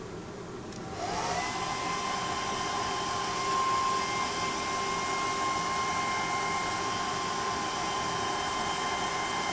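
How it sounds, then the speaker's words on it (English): A hair dryer switches on after a brief pause and runs with a steady, loud whirring hum and airy rush, close by, with no talking. "Just plugging in Mrs. Oliver's hairdryer."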